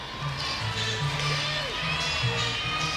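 A raucous, standing-room-only capacity crowd at a Women's College World Series softball game, Texas vs. Texas Tech, makes a steady roar of cheering and chatter, with a commentator's voice faintly over it.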